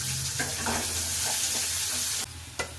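Onions frying in a pan for a leafy greens stir-fry, a loud, continuous close sizzle with scraping stir strokes, then the hiss drops suddenly near the end before a brief clatter.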